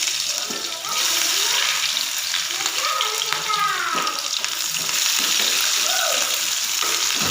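Chopped onion hits hot oil already holding bay leaves and panch phoron, giving a loud, dense, continuous sizzle close by, with a few stirring scrapes and a voice talking briefly over it.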